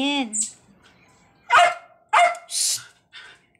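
A dog barks several sharp barks in quick bursts at close range, with a person's voice heard between them.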